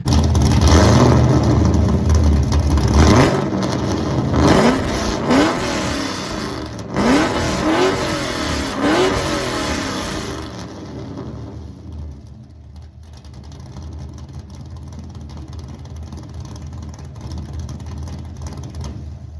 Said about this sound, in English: My engine started